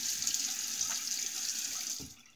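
Water streams from a tap as a vintage Racine electric safety razor is rinsed beneath it, a steady close hiss of running water with a faint knock near the end before it tapers off.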